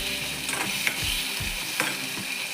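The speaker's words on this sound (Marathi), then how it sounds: "आता हे छानसं तेल सुटेपर्यंत चांगलं भाजून घ्यायचं आहे आपल्याला मसाला." Fish curry masala is stirred and roasted in hot oil in a pan, giving a steady sizzle with repeated scraping strokes of the spoon, close and fairly loud.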